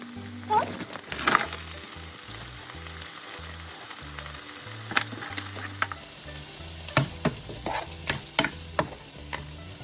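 Shrimp fry in a pan with cherry tomatoes, giving a continuous soft sizzle broken by sharp metallic clanks and scrapes from stirring, all close up with no talking.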